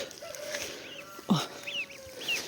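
Geese and chickens in a garden give a few short cackles and clucks, quiet and scattered over a faint outdoor background.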